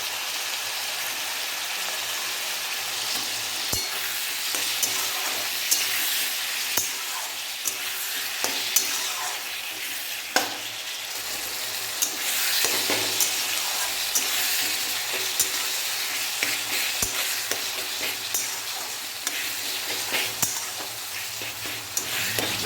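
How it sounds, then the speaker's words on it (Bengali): Tomatoes with salt and turmeric being mashed and stirred with a spatula in a frying pan, a soft continuous sizzle with scattered scraping clicks throughout, no talk. "টমেটোগুলোকে খুন্তির সাহায্যে গলিয়ে নেব।"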